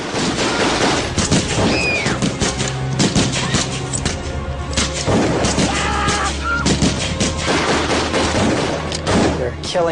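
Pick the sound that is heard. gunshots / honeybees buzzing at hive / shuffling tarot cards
gunshots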